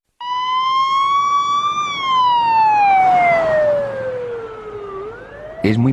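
A wailing ambulance siren sweeps up and then slowly glides down in pitch, loud and steady over road traffic noise, ending with a brief clatter.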